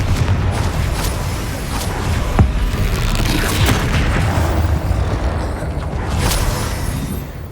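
Spell-combat effects from the Hogwarts Legacy video game on Xbox Series X, with the Confringo explosion spell among them: a steady dense rumble broken by several sharp booms and blasts, one standing out near the middle, loud and close.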